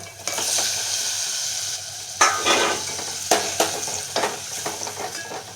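Tomatoes tossed into a hot frying pan for a peanut curry: a steady sizzle runs throughout, broken by several sharp scrapes and clinks of a spoon stirring against the pan.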